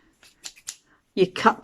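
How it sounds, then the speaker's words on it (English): Scissors snip into a plastic bottle during a craft project making butterflies from waste plastic, giving a short burst of close, crisp cutting sounds after a few faint, sparse ticks. "then you get your scissors and you cut"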